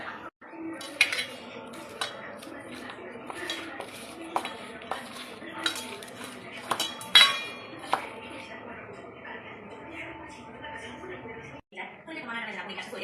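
Mashed tomato being mixed with sugar, chili and black salt in a dish, giving irregular clinks and scrapes of utensil against dishware, moderately close, with people talking throughout.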